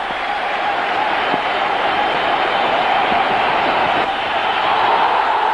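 A cricket stadium crowd applauds and cheers an Indian batsman closing in on a record score, a dense, loud and unbroken wash of clapping and voices filling the whole moment.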